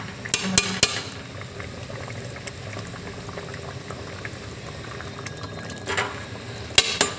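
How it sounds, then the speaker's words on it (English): A pot of bago tree leaves in water simmering toward a boil, with a steady low bubbling hiss throughout and a few brief louder clinks or stirring knocks near the start and end. "It's starting to boil."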